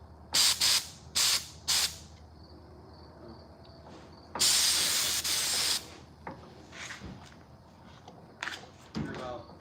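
A spray gun paints a costume in a workshop with several short hissing bursts, then one long, loud spray and a few more puffs, with a quiet voice between them.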